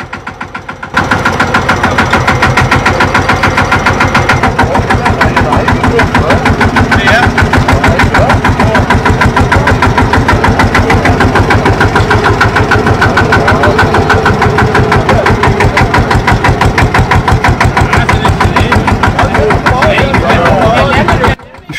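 Fendt tool carrier tractors at a vintage meet drive past, their diesel engines chugging loud and steady in a close, continuous rhythmic drone for about twenty seconds before it cuts out.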